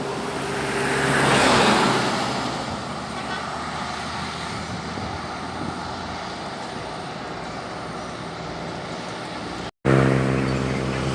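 A Rapi intercity bus passes on a road in Indonesia, its broad roar swelling loud and close before easing into a steady rumble of traffic, with a brief cutout near the end.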